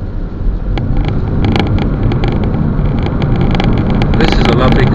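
An Audi A5 Sportback 3.0 driving on the road, with steady loud engine and road roar and wind rush throughout, plus some light rattling clicks.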